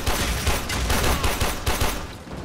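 Rapid gunfire in the co-op shooter Warframe: a dense, continuous stream of shots with rhythmic thumps, loud and close throughout with no talking.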